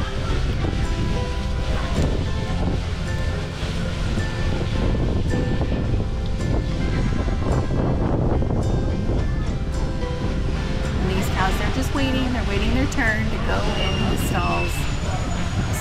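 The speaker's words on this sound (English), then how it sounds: "you see that they're getting hosed down a bit before they actually go into the stalls" Cows on a farm being hosed down with water before entering their stalls, a loud continuous rushing spray mixed with wind and outdoor noise, with voices talking over it.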